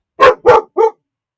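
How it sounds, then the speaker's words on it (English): A dog barks three times in quick succession, loud and close, followed by silence. "Why are you barking?"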